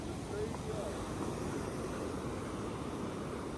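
Ocean waves and wind heard from aboard a fishing boat at sea: a steady, loud, broadband rush of water and wind buffeting the microphone, continuous for the whole stretch with no clear breaks.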